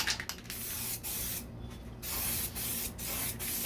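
Sealer primer sprayed onto exhaust shields from a 1969 C3 Corvette gives a loud, close, continuous aerosol hiss in several bursts, with short breaks between passes and no talk.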